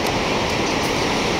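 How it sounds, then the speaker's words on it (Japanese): Northeast swell waves breaking at Sendai Newport beach form a continuous, loud, even surf roar with no voices throughout. "波が割れていますね"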